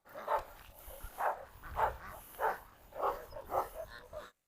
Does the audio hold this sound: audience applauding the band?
no